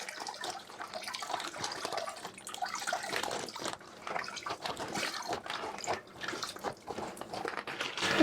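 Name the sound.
squeezing water out of cloth diapers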